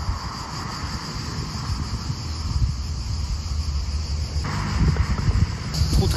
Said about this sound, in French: Le vent se lève là, gros vent contre.